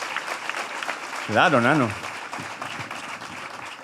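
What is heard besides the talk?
audience applause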